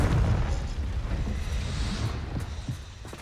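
Confringo spell explosion in Hogwarts Legacy, a loud booming burst at the start that rumbles and decays, followed by scattered smaller crackles and pops.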